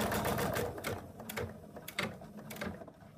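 An embroidery machine stitches a line down the middle of hooped fabric, giving a fast, steady mechanical chatter of needle strokes with a few small clicks, heard up close with no talking.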